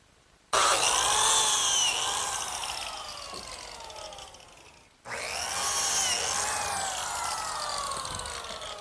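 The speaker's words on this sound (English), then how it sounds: "the first thing I'm going to do is cut the slots in the ends of the runners" A biscuit joiner cuts slots into the ends of wooden runners for a kitchen worktable in a woodworking shop, in two loud whining bursts: the first runs about four and a half seconds, and the second starts after a brief pause and carries on to the end.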